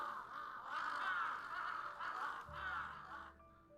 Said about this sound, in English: Are those birds?